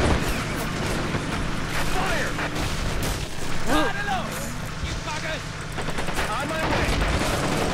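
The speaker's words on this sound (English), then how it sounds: "What is that? Artillery!" Artillery and gunfire boom continuously through a battle in the video game Men of War: Assault Squad 2, a dense, loud barrage with voices talking over it throughout.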